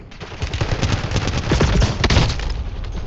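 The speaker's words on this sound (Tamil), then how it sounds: "அடி ராக்கெட் விட்டுட்டு இருக்காங்க" Rockets and rapid gunfire in the shooter game Warzone, dense overlapping bursts of shots and booming blasts that build in loudness over three seconds, with no talking.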